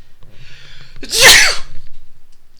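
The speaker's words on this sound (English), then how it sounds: "Sorry, muting for sneezing." A single loud sneeze bursts out after a brief quiet breath-like lead-in, close to the listener, then fades into faint background hum.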